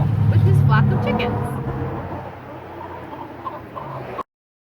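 Chickens clucking close by, with a person talking over them; the sound fades slightly before cutting off abruptly.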